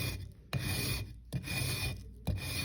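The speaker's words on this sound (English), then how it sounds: "bringing the actual rasp around." A hand rasp shaping and rounding a plaster corner, giving a steady, close, gritty scraping in long continuous strokes broken by three brief pauses, with no voice present.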